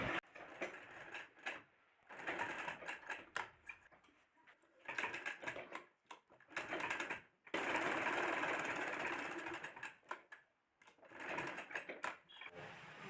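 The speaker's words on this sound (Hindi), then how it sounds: "तो चलिए इसमें सिलाई लगा लेते हैं।" A sewing machine stitches a pajama in repeated bursts of rapid mechanical whirring, each lasting one to three seconds and separated by short pauses, close up and without talk.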